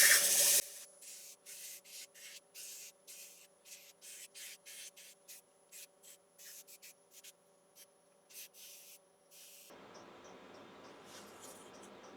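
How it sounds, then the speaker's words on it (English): Woodturning on a lathe, a small 240-grit sanding disc taking the sharp edge off a turned wooden handle. Quiet, rhythmic bursts of rubbing and hissing come in short repeated passes over a faint steady motor hum, then a rougher stretch of noise near the end. "So I'm just going to take the little sharp edge off of the side now with this. Is a little 240 grit disc on this one now."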